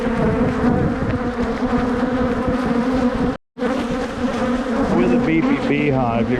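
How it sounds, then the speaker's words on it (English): A dense, steady drone of honeybees buzzing around a shaded hive, loud and close, continuous apart from a momentary dropout in the middle. "this hive, they're cranky, but like I said, they're in this shaded area"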